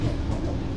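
Steady low rumble and rattle of an Indian Railways AC first class train carriage in motion, a continuous close interior running noise with no voices.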